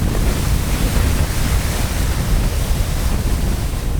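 Strong wind roars over open water while riding an eFoil, a loud, steady broadband rush of wind buffeting the microphone, with surf-like hiss and no voices.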